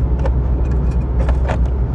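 Mitsubishi Mirage engine and road noise from inside the cabin while climbing a gentle hill on a road trip toward Hualapai Peak, Arizona: a steady low rumble with faint interior rattles, no talking.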